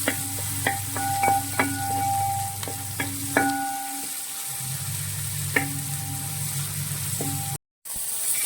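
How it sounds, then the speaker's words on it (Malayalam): Chicken stew ingredients sautéing in a pan until golden brown, a steady close sizzle with frequent scraping stir strokes and clinks of a utensil against the pan, briefly cutting out near the end. "നല്ല ഗോൾഡൻ ബ്രൗൺ കളർ ആവുന്ന വരെ നമുക്കിതൊന്ന് വഴറ്റാം"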